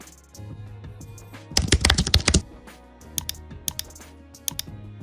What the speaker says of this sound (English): Now we'll add a text box and type contact.